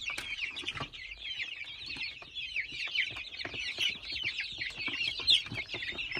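Kuchinsky breed chicks and chickens cluck and peep continuously at a fairly low level, with a busy chatter of overlapping calls and no talking.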